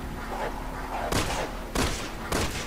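Gunfire in the video game Resident Evil 6: three sharp, loud shots spaced roughly half a second apart, each with a short decaying tail over a low, steady background rumble.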